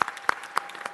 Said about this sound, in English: Let's give these ladies a big round of applause